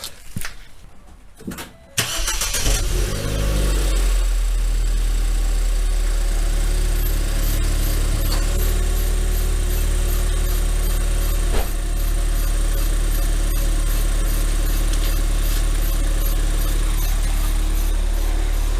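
A Ford Fiesta ST cranks briefly, fires and catches, then settles into a loud, steady, deep idle that runs on close to the car with no talk.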